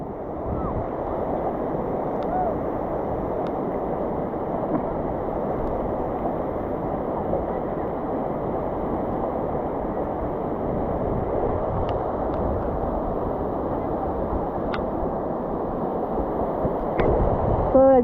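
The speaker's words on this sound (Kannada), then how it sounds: "ರಭಸವಾಗಿ ಬರ್ತಿದ್ದಾವೆ ಇಲ್ಲಿ ನೀರು" Water rushing forcefully through Nagalamadike dam on the Uttara Pinakini, a steady broadband roar with wind buffeting the microphone, continuous and close for the whole stretch.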